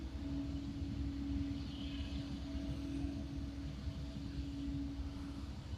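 An airplane departing Honolulu airport, a distant, steady engine rumble and drone holding level across the stretch, with no voices.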